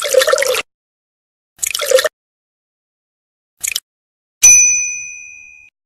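Milk pours into a measuring cup in the Curious George pancake-chef video game: three short, separate liquid-pour bursts, then a bright ringing chime that slowly fades, with silence between.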